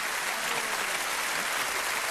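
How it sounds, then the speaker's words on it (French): Dense, continuous applause from an audience on a French letters game show, a steady wash of many hands clapping without pause, no talk over it. "Je crois qu'on peut se lever pour l'applaudir."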